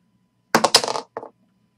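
Dice rolled during a trading-card case break: a quick burst of hard clattering impacts tumbling over about half a second, then a short second rattle as they settle, close and fairly loud with no talk.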